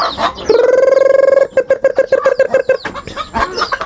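Native chickens and chicks clucking close by in a rural yard, a rapid run of repeated clucks followed by scattered calls and chick peeps, loud and near with no talk.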